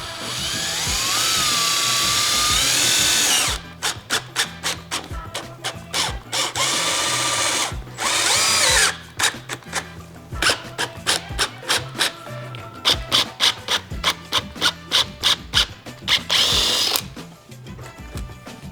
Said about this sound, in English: So let me get my tool, drill with step bit,